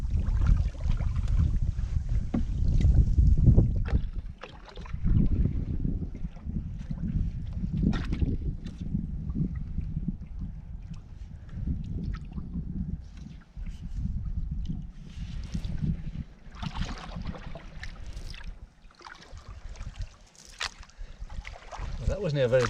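Canoe paddling on Loch Ard in the Trossachs, with steady low water swishes and wind rumble on the microphone running throughout, fairly close and continuous.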